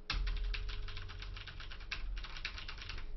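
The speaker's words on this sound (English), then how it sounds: "These keyboards are just for sound." Rapid clicking of a computer keyboard, fast bursts of keystrokes with a brief pause midway, close and clear with no voices.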